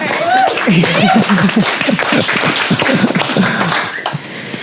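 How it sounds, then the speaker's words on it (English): A live crowd at an SF Climate Week ocean event applauds, clapping mixed with loud voices and whoops close to the microphone, tapering slightly toward the end. "give yourselves a round of applause"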